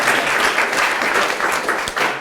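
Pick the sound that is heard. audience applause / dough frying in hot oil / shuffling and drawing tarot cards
audience applause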